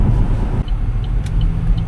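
A Toyota Avalon with 91,000 miles drives along, its interior filled with a steady low road and engine rumble, a few faint high ticks over the top, and no talking.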